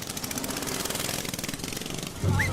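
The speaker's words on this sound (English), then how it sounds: "Gentlemen, start your engines." Parade vehicle engines at an Azalea Festival parade start-up, a loud continuous rattling, hammering drone of several motors running together, with a sharper burst near the end.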